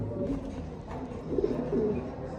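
Two female pigeons cooing softly in low, throaty repeated calls, close by, over a faint background hum.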